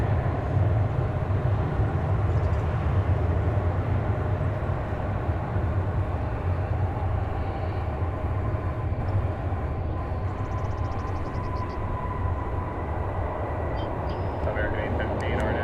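An Airbus A321 coming in to land at DFW Airport, a low, sustained engine rumble with a broad roar that stays steady and moderately distant throughout, with no talk.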